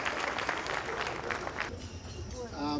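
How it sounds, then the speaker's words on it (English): An audience at a corporate evening event applauds as a speaker comes on stage, dense clapping that thins out and gives way to a voice. "let's give him a big round of applause as he comes to make his opening remarks"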